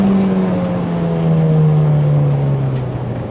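A modified Honda Civic EG with a swapped K20 engine is driven hard on open road, its engine note droning loud and steady close by, the pitch slowly falling as the revs ease off.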